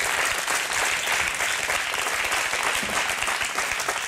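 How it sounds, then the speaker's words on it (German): A studio audience at a German TV satire show claps steadily throughout, a dense, even wash of applause that stays loud and close for the whole four seconds. "Kleiner Applaus."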